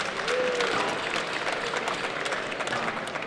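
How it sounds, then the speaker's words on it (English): Audience applause breaks out at the semi-finals of a squash tournament, a sustained crowd wash of claps from a sizable room, moderately loud and steady with a faint murmur beneath. "So please give a round of applause to KPMG."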